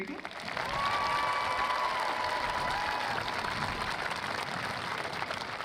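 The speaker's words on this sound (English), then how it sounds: "yep, you can clap for them, they did very good." An audience applauds at the 2022 Saline High School commencement ceremony, a dense, steady wash of clapping that swells in within the first second and holds for several seconds without pause.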